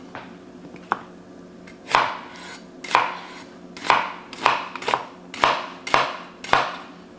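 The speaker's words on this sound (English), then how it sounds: "I got a purple onion. Let's just cut this up." A knife chopping a purple onion on a cutting board, eight or so crisp evenly spaced strokes about once a second after two lighter taps, close and clear with no voices.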